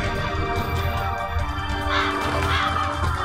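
Crows caw in a dense, noisy flock during a Raven Panic bird attack in the Bullet Witch video game, harsh calls layered over a loud, constant rumble of game sound.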